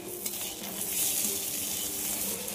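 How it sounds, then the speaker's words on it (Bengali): Potato, onion and tomato frying in a pan make a steady, fairly faint crackling sizzle, with no voice over it. "পেঁয়াজটাও ভালো করে আলুর সঙ্গে লাল লাল করে ভেজে নেব।"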